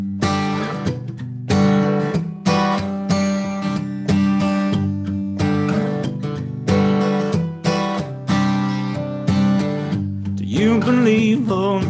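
Guitar plays a song with reverb added: loud, close strummed chords in steady rhythmic bursts with brief gaps and no singing, closing on a held, ringing chord.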